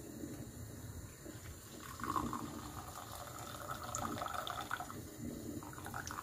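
Water poured into a teapot to rinse Moroccan tea leaves, a soft continuous splashing trickle, close but quiet, without talk.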